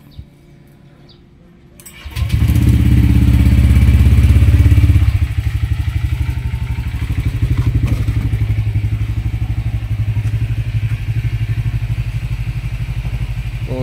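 A Honda Click scooter fitted with an MT8 exhaust starts up and settles into a loud, close idle, a steady throbbing burble with a rapid pulsing rhythm and slight rises in revs.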